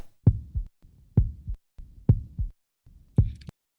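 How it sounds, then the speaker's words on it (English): A human heartbeat beats alone, four slow, even lub-dub pairs of soft low thumps spaced under a second apart, each a stronger first pulse followed by a weaker second, with silence between beats. "That is the sound of your heart."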